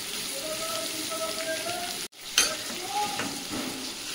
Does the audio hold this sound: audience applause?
no